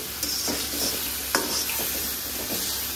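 Soy sauce poured into broccoli rice frying in a pan, a steady close sizzle with a few sharp spatula scrapes and stirs, no talking.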